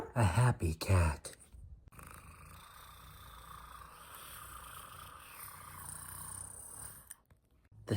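A person imitating a happy cat's purr with their voice, a steady low rumbling drone that holds for several seconds after a brief vocal lead-in, close and moderately loud.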